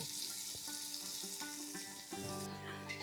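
Sliced onions for a biryani sizzle and crackle steadily in hot oil in a pan, a close, continuous frying hiss with no talking.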